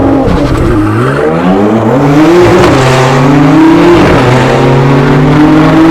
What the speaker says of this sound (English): Launch control start. Standing start lap. I'm just gonna smash the gas.